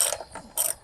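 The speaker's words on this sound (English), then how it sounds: "Loosen this bolt off." Quick ratcheting clicks from a 3/4 inch socket wrench loosening a bolt on a Hayward pool filter, several short close bursts of ticking within under a second, with no talking.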